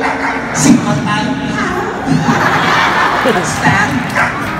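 A voice imitates a dog, letting out several short bark-like yelps over a noisy, crowded background with other voices, at a show in Urdaneta.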